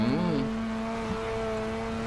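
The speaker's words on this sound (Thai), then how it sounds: "นี่มันเสียง RX7 ชัดๆเลยเนี่ยเสียงเครื่องยนต์โรตารี่" A Mazda RX7 rotary engine in GTA San Andreas, revving briefly and then settling into a steady, buzzing idle drone, loud and close.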